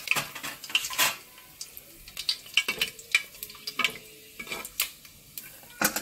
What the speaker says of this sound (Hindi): घी देखिए गरम हो गया है, ये पॉइंट पे अभी हम ये इलायची डाल देते हैं।